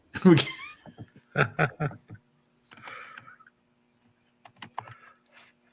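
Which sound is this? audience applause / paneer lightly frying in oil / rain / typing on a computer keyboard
typing on a computer keyboard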